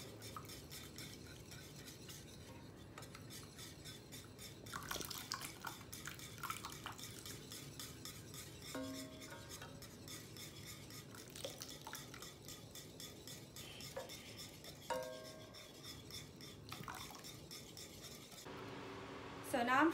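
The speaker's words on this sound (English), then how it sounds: "Just give a nice whisk." A whisk beats rapidly against a bowl as hot milk is worked into an egg mixture for crème caramel, a steady rhythmic clatter and scrape under faint background noise, with brief pauses and a louder knock at the end.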